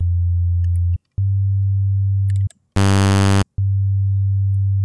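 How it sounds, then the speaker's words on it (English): A steady low sine-wave synth tone hums, cut by brief gaps, then switches for a moment to a bright, buzzy version distorted by a waveshaper before the plain tone returns. "because the sine wave is different from the saw wave"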